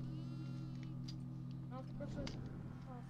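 A goat bleats a couple of times in the horror game Devour, short wavering cries over a steady low droning background.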